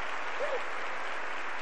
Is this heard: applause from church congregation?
yes